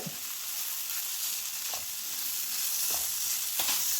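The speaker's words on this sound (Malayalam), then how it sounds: "അരി ഇവിടെ ഫ്രൈ ആയി വന്നിട്ടുണ്ട്." Soft, continuous sizzling of rice frying in a pan, punctuated by a few light scrapes of a spoon stirring through the contents.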